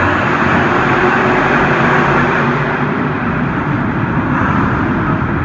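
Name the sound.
monster trucks Nitro Menace and Jester racing, engines roaring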